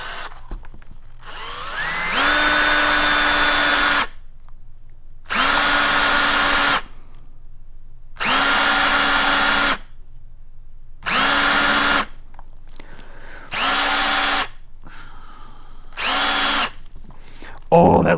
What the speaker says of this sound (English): Now you notice I drilled and stopped, drilled and stopped, drilled and stopped.